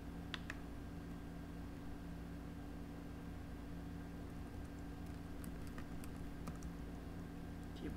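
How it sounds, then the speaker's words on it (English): Faint, quiet clicking from a computer keyboard while typing during a Linux Mint install in VirtualBox, a few scattered keystrokes over a steady background hum. "Now you want to see if your keyboard is working."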